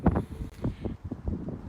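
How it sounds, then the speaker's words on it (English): Gusty wind buffets a microphone outdoors on a very windy day, producing uneven low rumbling bursts that rise and fall throughout, fairly quiet overall. "it is a very windy day, and that may sometimes obscure some of what I'm saying"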